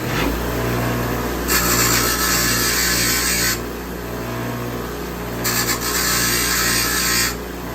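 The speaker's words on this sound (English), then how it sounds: "I'll put this on the bench grinder" Bench grinder grinding metal flat, a steady motor hum broken by two loud bursts of abrasive grinding as the piece is pressed to the wheel, close and alone.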